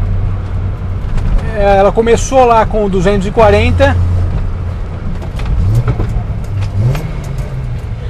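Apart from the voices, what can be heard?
Datsun 240Z engine roar while driving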